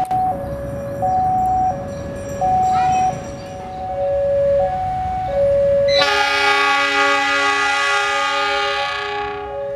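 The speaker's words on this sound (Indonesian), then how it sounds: "Ya Cikuray langsung berangkat ini mah." The Cikuray passenger train departing on a special holiday service: alternating two-tone warning chimes ring for several seconds, then a loud sustained train horn blasts and slowly fades.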